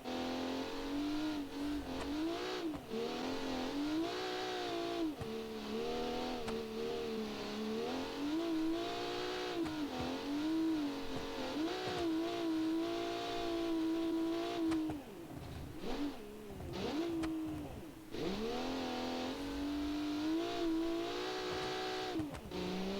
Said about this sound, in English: This has a turbo straight 6 with 400 horsepower